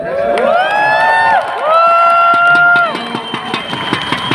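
A crowd at a morning motivational talk raises drawn-out cheering shouts in two long swells, then scattered claps and calls trail off.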